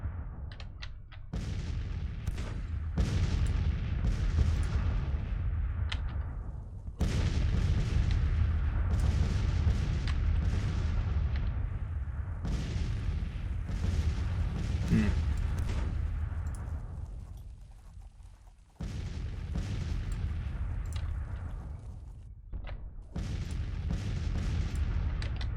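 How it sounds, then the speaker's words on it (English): Enemy gunfire and artillery in a Grand Tactician: The Civil War battle: heavy, continuous volleys of musketry and booming cannon fire rumble in repeated waves, loud and dense with brief lulls between bursts, and no talking. "well, actually, they are firing at us."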